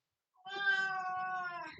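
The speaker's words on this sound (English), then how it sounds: "Yes, Medora, that's my cat." A cat gives one clear, drawn-out meow that starts after a short silence and holds steady, loud and close, with nothing else around it.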